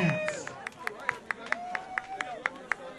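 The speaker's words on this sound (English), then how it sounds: "Let's have a nice round of applause for Mr. Furia." Sparse, sharp claps ring out from an audience welcoming Jimmy Furia back to the stage at a tribute show, roughly evenly spaced and fairly close, with faint voices behind them.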